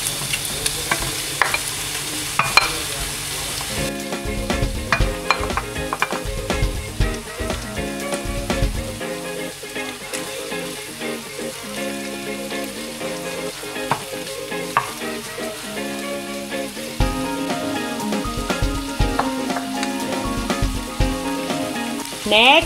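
Pork belly frying in a pan with golden-brown garlic and red onion for pork humba, a steady loud sizzle with frequent stirring clatter and scraping throughout, no talking.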